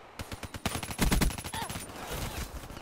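Rapid bursts of automatic gunfire in Black Ops 3 on Nuketown crackle loud and close, overlapping shots in dense fusillades with a brief lull before the firing resumes.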